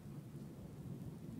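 Steady rain falls with a deep rolling thunder rumble in the Nintendo Switch video game Saviors of Sapphire Wings, a continuous dense wash with no voices.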